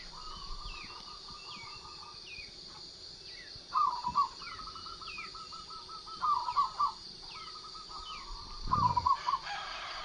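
Several birds, including zebra doves, call and chirp repeatedly in the morning, with rooster-like bursts and trilling songs over a steady insect buzz.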